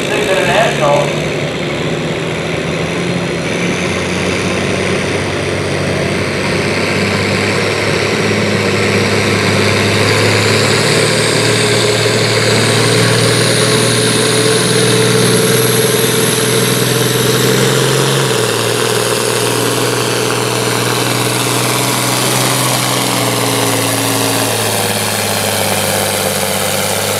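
An International 1066 tractor roars at a county fair tractor pull, its engine loud and strained as revs rise and hold under load, with a commentator talking over it.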